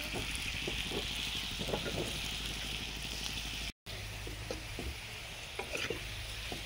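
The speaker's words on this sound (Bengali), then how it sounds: "আলু ভাজা প্রায় হয়ে এসছে" Potatoes fry in oil in a pan aboard a fishing boat on a river, a soft continuous sizzle with occasional stirring scrapes and light pops, quiet and steady, briefly cutting out before resuming.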